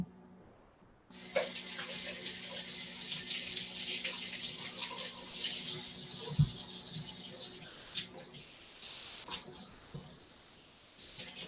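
Potatoes being washed under a running kitchen tap, a steady broadband rush of water into a sink with occasional knocks and splashes as they are handled.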